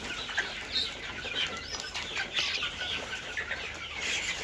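A flock of Fayoumi chickens clucks steadily and busily while eating fermented feed, overlapping soft calls close by with no talking.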